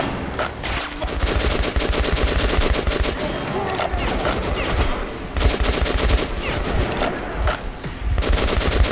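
Rapid automatic gunfire rattles through a firefight in the PS4 game Metro Last Light Redux. Dense, loud bursts repeat almost without pause, with brief gaps between volleys.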